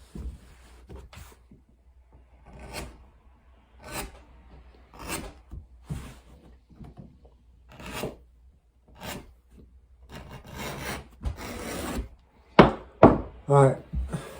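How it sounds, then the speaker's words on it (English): Edge beveling on an English bridle leather briefcase panel, short scraping strokes repeated at an uneven pace, close and moderately loud, with pauses between passes. "I beveled the entire outside panel"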